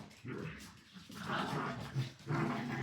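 Dogs play indoors during a home hip-strength workout, growling, whimpering and yipping in a busy, continuous tussle that sounds close by.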